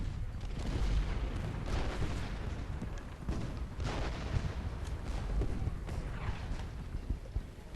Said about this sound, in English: the artillery piece there will start opening fire on them.